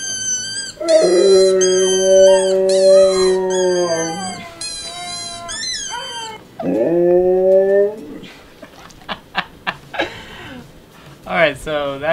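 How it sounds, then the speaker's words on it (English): Husky dogs howling from a played recording, long drawn-out wavering howls in a couple of loud sustained bursts, followed by shorter yips and whimpering cries toward the end. "I typed in husky howling and let's see his reaction."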